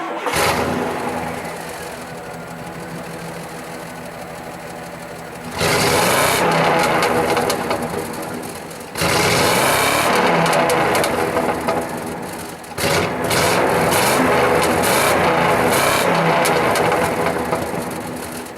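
A 1996 Chevy Silverado Z71 engine starts, settles into an idle, then revs hard in repeated sustained bursts up to about 5,000 RPM, loud and close, with no talk.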